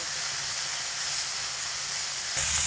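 Spices with turmeric fry in oil over medium heat, producing a dense, steady hiss and sizzle close up. The sound swells slightly near the end.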